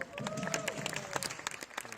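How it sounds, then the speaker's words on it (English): Journalists at a press call backstage at Wicked the musical give a brief burst of applause, many hands clapping close and scattered, with a voice mixed in. "So will you give yourselves a round of applause?"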